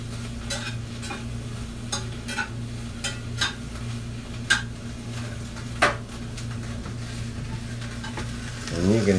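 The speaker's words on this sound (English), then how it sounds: "And you can hear that sizzle." Onions and peppers sizzle steadily in a cast iron pan, a constant frying hiss and hum with occasional sharp clicks and stirs of a utensil against the pan, fairly quiet and close with no voices.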